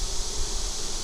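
Honey bees humming in an opened hive during an inspection, a dense, continuous buzz close by, with no voices.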